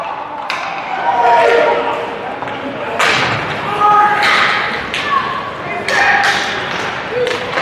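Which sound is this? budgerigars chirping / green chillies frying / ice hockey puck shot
ice hockey puck shot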